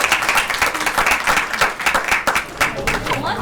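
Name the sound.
audience applause at a graduation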